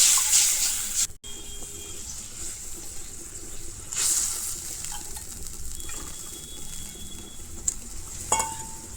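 Mustard paste of yellow and black mustard frying in a pan as water is poured in, a steady hiss with brief clatter and splashy bursts, close and moderately loud, no talking.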